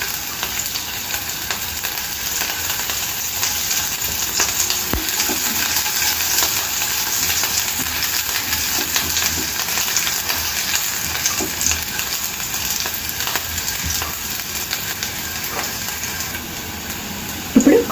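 Chopped garlic and green chillies frying in a pan for veg Manchurian, giving a steady, dense sizzle that holds evenly throughout, with a few faint utensil taps and no talking.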